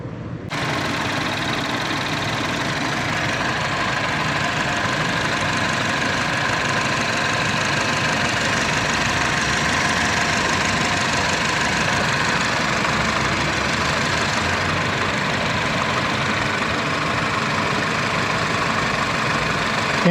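A car engine idles steadily, close and loud, with a constant low drone and a faint knocking texture that runs unbroken for about twenty seconds, with no talking.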